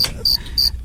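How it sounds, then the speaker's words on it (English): Crickets chirp in three quick bursts under a low background hum, played as a sound effect on a radio talk show. "Crickets."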